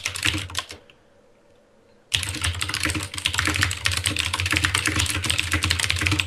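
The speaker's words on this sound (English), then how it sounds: "What are you typing?" Rapid typing on a computer keyboard, close and loud, with dense clattering keystrokes, a brief pause near the start, then continuous fast typing without voices.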